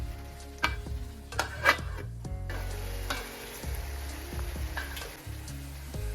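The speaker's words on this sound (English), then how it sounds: "You mix everything together and then you allow for the onions to cook." Onions cooking in oil with salt for a tomato gravy, a soft low sizzle under several clacks and scrapes of a spoon stirring the pan, quiet and close, with no voices.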